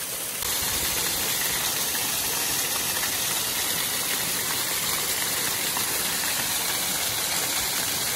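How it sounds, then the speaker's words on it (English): A raging creek torrent within the Atlanta city limits pours in a constant, loud, dense hiss and rush, steady throughout and close to the microphone, with no voices audible. "Hopefully you can hear me okay with this torrent raging"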